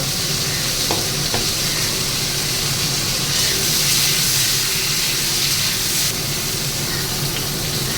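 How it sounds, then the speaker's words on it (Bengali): Green beans and cauliflower stirred while frying in a pan, making a loud, continuous, close sizzle with steady rustling stir noise throughout and no talking. "সিমগুলো একটু নেড়ে নেবো ফুলকপিগুলোর সাথে নেড়ে নেবো একটু"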